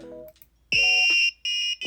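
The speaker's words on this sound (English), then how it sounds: "That buzzer sounds kind of bad, but that's okay." An electronic buzzer on a Raspberry Pi-programmed robot sounds in three harsh, shrill beeps of uneven length, loud and close, following a few short tonal chirps.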